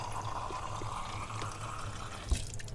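Water poured into a drinking glass, a steady faint liquid trickle with a brief clink near the end, quiet and alone with no talk.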